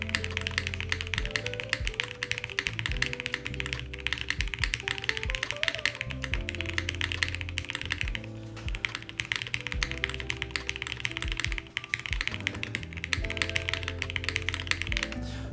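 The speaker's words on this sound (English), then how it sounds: "That's something I can only tell after typing for a little bit" Continuous rapid clacking of keys being typed on a full-size custom mechanical keyboard, the Bina 103, close and steady, with no talking.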